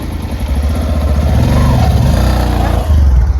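A motorbike engine running close by, a loud low chugging idle with a slight rise in revs partway through and a heavier throb near the end.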